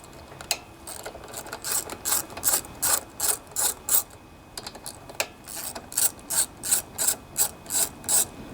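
Ratchet wrench loosening 10mm nuts on a Honda HRB 215 lawnmower with a plastic deck, heard up close as quick bursts of rapid clicking, two runs of repeated strokes separated by a short pause, with no talking.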